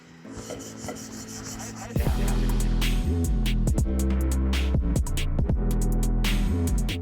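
Hand-scuffing aluminum parts for a Can-Am side-by-side project with a Scotch-Brite pad, giving steady close rasping and rubbing strokes, softer at first and then louder and more insistent, with no talk.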